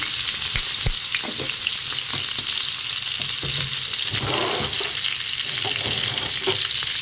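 Garlic frying in ghee for a spinach dish, giving a steady, close, continuous sizzle with scattered crackles and light stirring clatter throughout.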